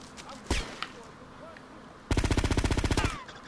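Gunfire in GTA Vice City: a couple of isolated single shots, then a rapid automatic burst of about a dozen sharp, evenly spaced cracks lasting roughly a second, loud and close.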